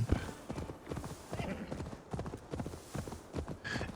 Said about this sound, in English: my horse is for sure faster than his one